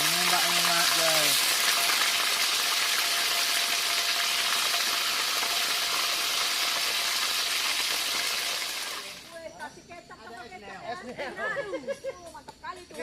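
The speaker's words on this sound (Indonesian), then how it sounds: "Kita goreng sarden." Sardines fry in a pan at a rainy campsite, a loud steady sizzle filling the first nine seconds before it drops away and voices chatter nearby.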